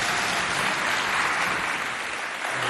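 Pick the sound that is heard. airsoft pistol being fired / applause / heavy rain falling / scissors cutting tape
applause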